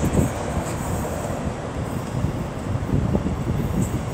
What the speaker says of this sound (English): 1326 East Midlands Railway service from Norwich to Liverpool